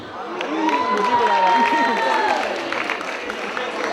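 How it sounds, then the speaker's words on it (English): An audience at a college freshers party claps and cheers amid crowd chatter, a moderately loud burst that swells and then tapers, with a sustained tone running through the middle. "So please give a big round of applause for my queen."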